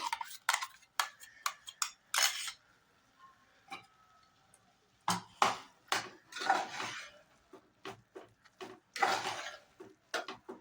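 Sharp metallic clanks and scrapes of a spoon stirring carrot paste for gajar halwa in a pan, irregular bursts with short quiet gaps, close and fairly loud, no talking.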